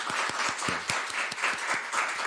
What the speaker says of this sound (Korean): 1년 내내 지금 몇 년째 계속 수고하시는 우리 간사님께 우리 감사의 박수 한번